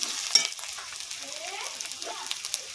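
Chicken curry frying and being stirred with spices in a pan, a soft steady sizzle with scattered scraping clicks of the spoon, fairly quiet and close, no talk.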